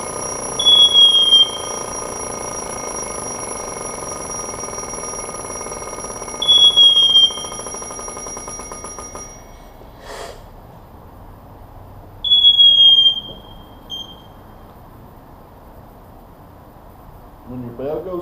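SCBA low air alarm sounding on a firefighter's breathing apparatus as cylinder pressure drops, bursts of shrill high-pitched ringing that repeat about every six seconds over a steady hum, then cut off, followed by faint handling noises.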